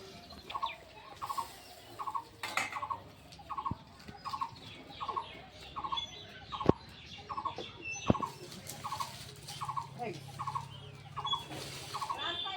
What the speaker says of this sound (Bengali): পাখি কোথায় ডাকে রে?